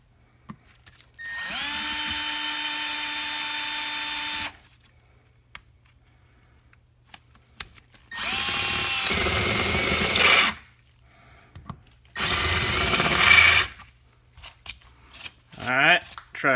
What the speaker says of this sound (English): I think I'll try kissing them with a drill first and see what happens.